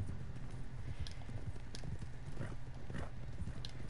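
Horse hooves clip-clop steadily in Red Dead Online, a continuous rhythmic trot of loud, close footfalls with a low rumble beneath and no talk.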